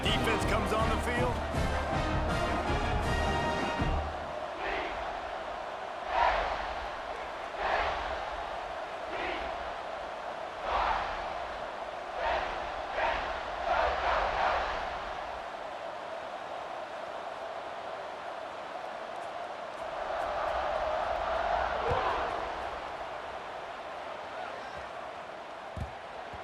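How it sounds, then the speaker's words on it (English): Stadium crowd noise from an EA Sports College Football 26 game swells and surges in waves of cheering behind a broadcast-style commentator's voice, with a brief musical sting at the start. "You think this crowd's going to get loud when their defense comes on the field?"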